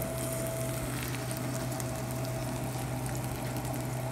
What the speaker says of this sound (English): we're just going to let our shells cook for maybe 2 minutes